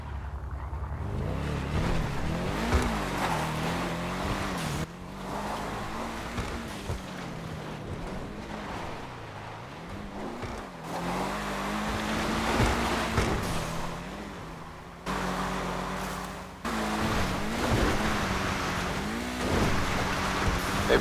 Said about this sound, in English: The sound that engine makes on the freeway.